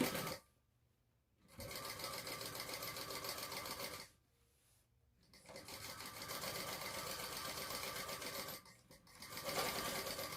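Sewing machine stitching a bag lining along a zipper edge, running in three steady whirring bursts separated by short pauses, close and loud with no talking.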